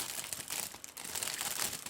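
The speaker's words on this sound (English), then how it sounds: "now what I'm going to do is we get like a plastic bag." Thin plastic bag crinkling and rustling steadily for about two seconds, close and fairly loud, with no talk, while being readied to wrap over a fingertip for applying Jamberry nail wraps.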